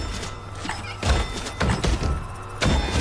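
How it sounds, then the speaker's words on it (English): Heavy thudding smacks from the FNAF Help Wanted video game, several dull low booming hits landing at irregular intervals, loud and close over a faint game background. "The thudding in general is just crazy."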